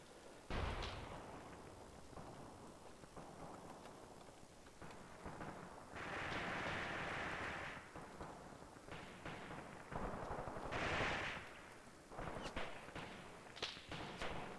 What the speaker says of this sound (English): MG42 firing into the trenches.